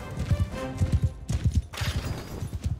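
Horse hooves thud in steady galloping clusters during a large Mount & Blade 2 Bannerlord battle, loud and close, with a low rhythmic pounding and a brief whoosh of battle noise partway through.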